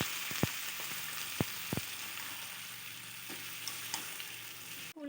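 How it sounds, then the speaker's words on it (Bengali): Cauliflower being stirred with spices in a frying pan, giving a steady close sizzle broken by a few sharp knocks of the spoon against the pan, with no talking. "দিয়ে আরও কিছুক্ষণ নেড়ে চেড়ে মশলাটা ফুলকপির সাথে মিশিয়ে নেব।"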